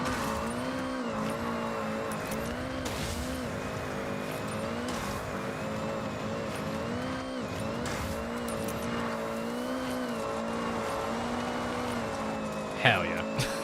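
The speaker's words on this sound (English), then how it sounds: "Driving a Honda City up a mountain." A Honda City's engine drones steadily as it climbs a mountain road in Forza Horizon 6, the tone rising and falling with gear changes and throttle, with a brief sharp bump near the end.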